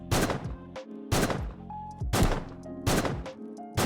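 Four loud, booming gunshots fire at a slow, even pace, each with a sharp attack and brief ringing tail, from the game Quasimorph.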